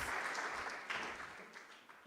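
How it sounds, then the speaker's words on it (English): An audience at an agricultural finance learning event applauds as panelists come to the stage, a brief burst of clapping that fades slightly toward the end. "Round of applause."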